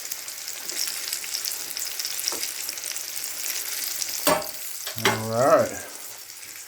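Catfish pan frying in hot oil gives a steady, fine sizzle throughout. A brief spoken word and a couple of louder clattering stirs come near the end.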